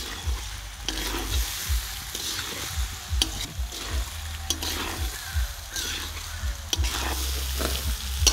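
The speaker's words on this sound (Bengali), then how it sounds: "আবার নেড়ে চেড়ে নেব।" Mutton fried rice being stirred in a hot pan, a continuous close sizzle broken by regular rhythmic scrapes and tosses of the spatula throughout.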